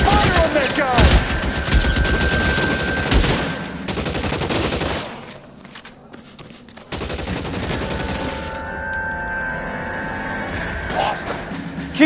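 Loud rapid gunfire in the video game L.A. Noire, with dense bursts of shots and machine-gun fire in a firefight, a brief lull, then renewed shooting under shouted voices.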